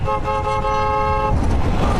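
A loud, cheap 150-taka vehicle horn blares steadily for over a second, then cuts off, leaving rumbling traffic noise.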